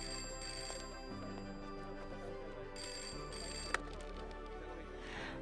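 Phone ringing in an office in a Hindi film, a repeated electronic ringtone with a sustained tone pattern, fairly quiet and carrying on across the whole stretch with no voices.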